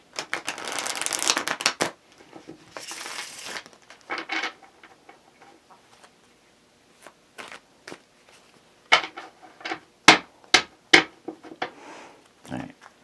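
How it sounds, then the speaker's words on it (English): A deck of tarot cards is shuffled and cut by hand, with a long riffling burst, a second shorter run, then scattered soft taps and sharp snapping flicks near the end, close and otherwise quiet. "I'm going to get 1 more shuffle and cut the deck"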